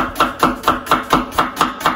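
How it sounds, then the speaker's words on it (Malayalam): A knife chops an onion finely on a board, eight crisp, evenly spaced cuts in quick rhythm, close and loud with no voices. "ഓണിയൻ ഒന്ന് ഫൈനായിട്ട് കട്ട് ചെയ്തെടുക്കാം"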